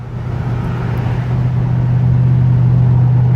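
A 2007 Mercedes-AMG SL55 accelerating on a summer beach road, its engine a steady low drone that swells gradually louder over a few seconds, with no voices.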